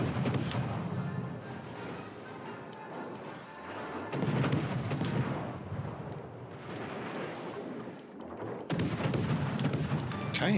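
Warship guns firing in World of Warships: Legends, heavy booming salvos with rumbling tails, loud blasts recurring at intervals over a dull background drone.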